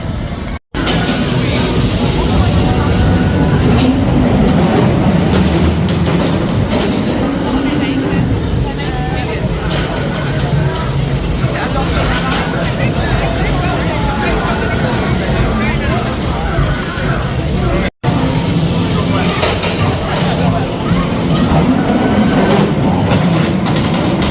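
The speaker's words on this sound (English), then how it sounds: "So I've just ridden Ghost Train just down there, and I love this ride so much." Ghost Train ride cars at Pleasure Beach Resort rumble and clatter along a track at length, with mechanical rattling and a steady roar; voices can be heard at moments.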